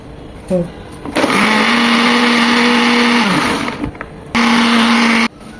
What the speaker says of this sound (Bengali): দু থেকে তিন মিনিট ব্লেন্ড করে দেবো